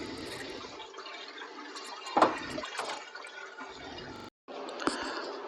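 Water running and splashing continuously as cyanotype paper prints are rinsed, a steady close gush with small splashes and a brief pause near the end.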